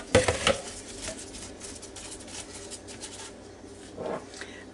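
Whole potatoes drop into a pot roast pot in a quick burst of knocks and clatter at the start, followed by quieter shuffling and a small bump near the end.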